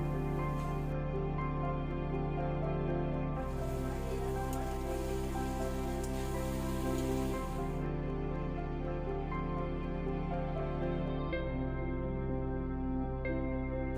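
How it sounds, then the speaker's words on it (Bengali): Luchi (puri) deep frying in hot oil while cooking for an Ashtami evening, a steady close sizzling hiss running throughout, with a sustained tonal background layered underneath. "আর অপরদিকে আমি এখানে লুচিটা ভেজে নিচ্ছি"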